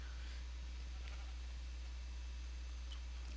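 Faint sheep bleat from a BarBaria game farm, brief and distant over a steady low hum, with no talking.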